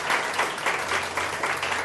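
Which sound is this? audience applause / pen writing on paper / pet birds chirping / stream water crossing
audience applause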